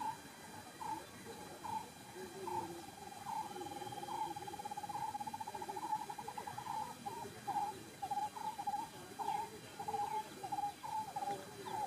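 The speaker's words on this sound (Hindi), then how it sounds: "मन भटकता तो पक्षी की आवाज़ के साथ जुड़ जाएं बस।" Repeated soft owl hoots and bird calls in an outdoor meditation setting, a steady series of short coos continuing throughout at moderate distance, with a faint constant background hum.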